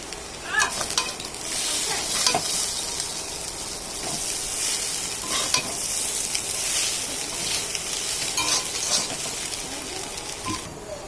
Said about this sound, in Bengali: এই যে আমি মশলার সাথে দিয়ে দিয়েছি সসটা, ভালো করে লাগিয়ে নেব, নাড়িয়ে চাড়িয়ে আমি কিছুক্ষণ পরে নামিয়ে ফেলবো